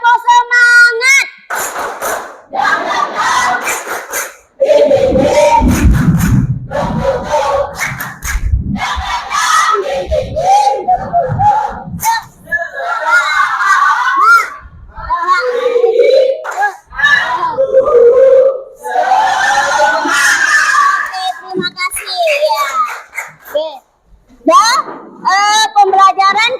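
A classroom of students performs the tepuk semangat, a loud group chant mixed with rhythmic bursts of clapping and shouted voices that carries on throughout.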